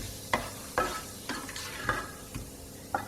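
Whole cloves, cumin seeds and asafoetida stirred in a hot pan for mutton rogan josh, about six distinct scraping strokes of a spoon over a light sizzle, fairly quiet and close.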